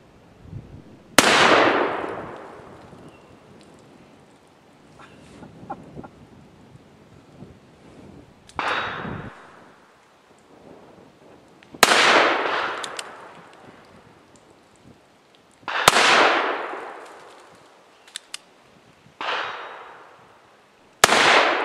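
Taylor's Frontier revolver firing .45 Colt black powder loads, about five loud, sharp shots spaced a few seconds apart, each booming and decaying into an echoing tail.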